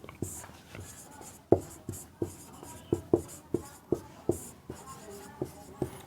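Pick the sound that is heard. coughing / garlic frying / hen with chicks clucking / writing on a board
writing on a board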